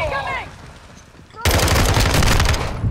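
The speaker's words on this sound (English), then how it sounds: "I was shooting everywhere" A sudden, loud burst of rapid automatic gunfire from the game Call of Duty: Modern Warfare II erupts after a quieter moment and continues steadily, with a player's voice heard briefly beforehand.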